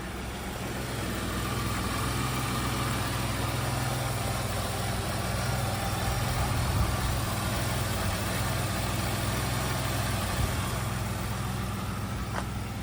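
A 1996 fourth-generation Chevrolet Camaro with a 3800 V6 engine and an oil leak idles steadily, a low, even rumble that holds without change, close by and alone.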